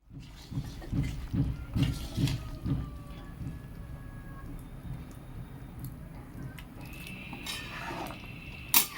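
Boiled potatoes and salt added to a cooking pan for a vegetarian dish: soft thuds and clattering scrapes of pan and utensil at close range over a steady background hiss, busiest early on and then quieter.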